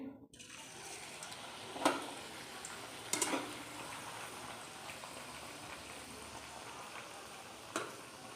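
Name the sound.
kachori frying in oil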